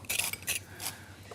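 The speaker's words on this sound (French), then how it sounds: "je vais tailler très fin mon persil pour pas qu'il y ait des gros morceaux." A kitchen knife finely chopping parsley for a cooking show in a care-home kitchen: three or four quick, crisp taps of the blade on a board, close and fairly quiet, with no talk.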